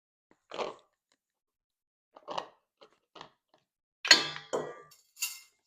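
Cubed potatoes are tamped down into glass canning jars, giving a handful of separate soft thuds and light glassy clinks spaced irregularly, with a brighter clink near the end and quiet gaps between.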